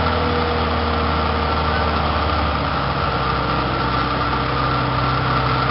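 A road-rail vehicle that runs on rubber tires or rails pulls in at a trolley museum's Founder's Day parade, its engine giving a steady, fairly loud idling drone throughout.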